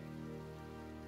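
Rain falling steadily in the survival video game The Forest, a continuous even patter on the ground with no breaks, moderately quiet and alone.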